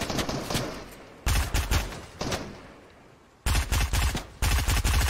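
Gunfire in the video game Fortnite: loud bursts of rapid automatic fire arrive in three separate volleys, each broken off abruptly, with brief quieter gaps between them.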